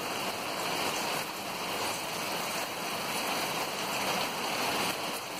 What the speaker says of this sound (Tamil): செம்மையான மழை ஃப்ரெண்ட்ஸ்,